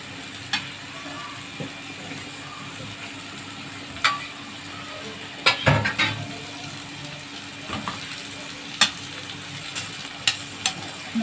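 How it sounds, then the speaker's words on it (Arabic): Onion cut into rings being stirred in oil in a tray-like pan, a quiet continuous sizzle broken by sporadic clinks and scrapes of the utensil, close and without talk. "نحط البصلايه كده على الزيت في قلب الصينيه، نقلبها كده تاخد تشويحه."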